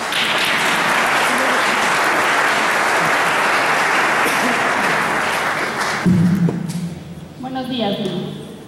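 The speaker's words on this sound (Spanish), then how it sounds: "Un aplauso por favor a Li" A church audience at a Sunday missionary service gives a guest speaker a loud, dense round of applause that holds for about six seconds and then fades as a voice begins speaking.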